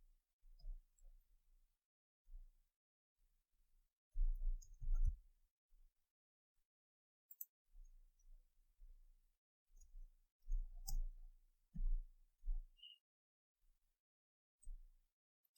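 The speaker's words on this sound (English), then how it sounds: "So I'm going to type here." Someone types on a computer keyboard during a programming lesson. Soft, close key clicks come in short clustered bursts separated by silent pauses, all fairly faint.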